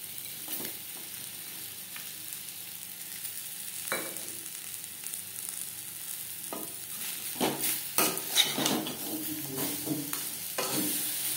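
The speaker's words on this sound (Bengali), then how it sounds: "আম আমি হালকা করে ভেজে নেব, খুব বেশি ভাজবার প্রয়োজন নেই।" Mango pieces for a sweet-sour mango pickle fry lightly in a pan with a steady soft sizzle, broken by repeated scraping stir strokes that grow busier toward the end; no voices.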